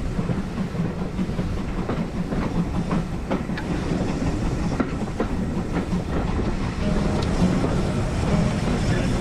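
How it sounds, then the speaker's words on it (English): A heritage railway train on the Keighley and Worth Valley line rumbles steadily along the rails, a continuous heavy roar with faint rhythmic clatter from the wheels, heard from inside a carriage. "After a brief stop, the train progressed"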